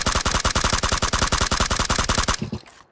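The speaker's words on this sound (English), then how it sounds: "I have to start shooting" Sustained automatic gunfire in the video game PUBG, a rapid, evenly spaced string of loud shots for over two seconds before abruptly stopping.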